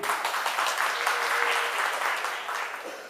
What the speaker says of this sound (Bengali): আমাকে হাত তালি দিন।